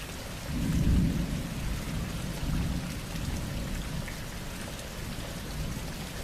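Thunderstorm over Pittsfield, Massachusetts, with steady heavy rain hissing throughout and low rumbling thunder swelling near the start, loud and continuous with no voices.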